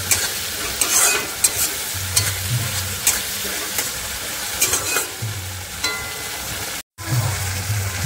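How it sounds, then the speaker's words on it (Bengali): Tomato frying in a pan for a chicken curry, a loud, continuous close sizzle with occasional scraping stirs and clatters of a utensil against the pan, no voices. "যে কারণে আমি টমেটোটা সুন্দর করে ভেজে নেব"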